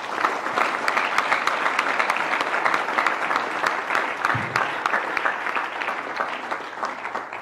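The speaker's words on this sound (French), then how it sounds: "vous méritez un tonnerre d'applaudissements" A crowd of party supporters at a Congolese political rally applauds after a speech, a dense and sustained roar of many hands clapping at an even, fairly loud level, with a brief low thump midway.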